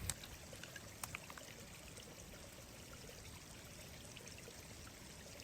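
A mountain stream rushes and pours continuously over rocks, a steady, fairly faint water sound with no voices.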